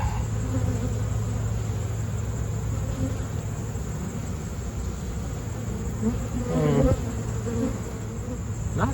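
Honey bees buzz steadily around an open hive during an inspection after a storm, a close, continuous drone with a faint passing noise near the end and no talking.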